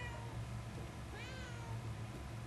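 A cat meows in Murdered: Soul Suspect, one short rising call near the middle over a steady low game background hum.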